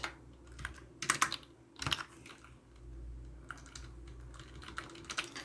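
Code is typed on a computer keyboard in quick, uneven bursts of clicking keys, close and fairly quiet, with no talking.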